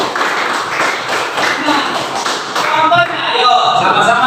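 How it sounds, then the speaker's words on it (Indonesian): Children in a classroom clap their hands together, a dense run of quick close claps that gives way to a softer patter as a teacher talks. "tepuk tangan buat Rizky."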